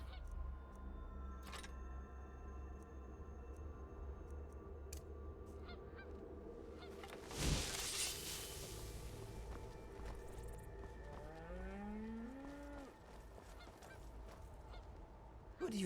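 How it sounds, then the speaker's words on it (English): In Skyrim, a peacock somewhere off in the game world lets out a couple of honking calls against a quiet ambient background, with a muffled thump partway through. "There's a peacock over there."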